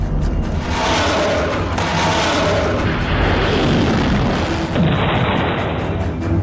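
A loud, close explosion in the Russia–Ukraine war: a sustained heavy booming rumble with crackling debris-like noise filling the whole stretch.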